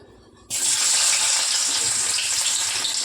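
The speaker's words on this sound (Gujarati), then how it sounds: "તો હવે આપણે પહેલાં સૌપ્રથમ નાખી દઈએ લીલી ડુંગળી." Sliced green onions drop into oil already heated and tested with cumin, bursting into an abrupt loud sizzle that holds as a steady hiss, with no one talking, while noodles are cooked.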